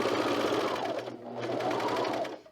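A serger sewing machine stitches fabric for a Brattle top in one loud, continuous mechanical whir. The hum dips briefly midway, then runs on and winds down at the very end.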